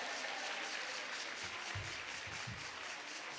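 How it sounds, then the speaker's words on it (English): Conference audience applauding at the 17th Biennial International Association of Women Judges Conference, a steady wash of many hands clapping at moderate volume that holds for the whole stretch, with no voices. "Another round of applause, ladies and gentlemen."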